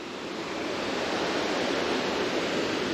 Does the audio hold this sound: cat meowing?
no